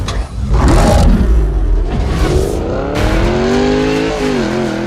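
A Koenigsegg Regera in the video game Need for Speed Payback revs hard, its engine pitch climbing through several gear changes with a brief tire squeal, loud and close and with no talk over it.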